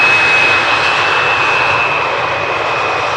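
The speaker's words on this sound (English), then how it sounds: "And yet another landing without the reverse thrust applied." An airliner lands at Amsterdam Schiphol on runway 18R without reverse thrust, a loud, steady, close jet roar with a constant high whine and no voices.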